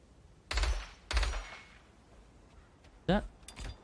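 Two heavy gunshots from the player's weapon in the survival video game Scavengers fire half a second apart, then after a pause a third burst with a rising whoosh and a softer follow-up hit.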